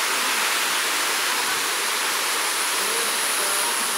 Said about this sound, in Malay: dekat sini ada sungai